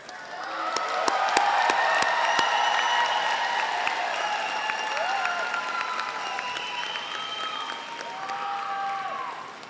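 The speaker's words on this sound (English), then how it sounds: "Give them a round of applause." A convocation audience in Moose Jaw applauds and cheers for graduates, sustained loud clapping with scattered whoops filling the hall for nearly ten seconds, a few sharp claps standing out early.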